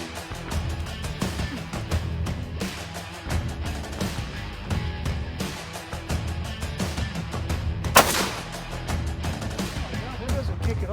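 A single sharp gunshot cracks out during a spring turkey hunt, one brief loud blast about two-thirds of the way through, rising above steady outdoor background noise and voices.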